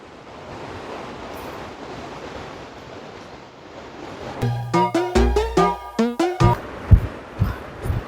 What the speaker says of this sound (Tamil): அருவியோட சவுண்ட் பக்கத்தில் கேட்டுகிட்டே இருக்குங்க.